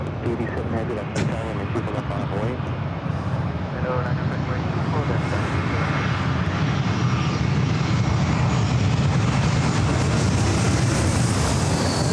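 A Spirit Airlines Airbus A320 jet passes at LAX with a loud, sustained engine roar that builds and stays heavy throughout, while people talk faintly in the background near the airport.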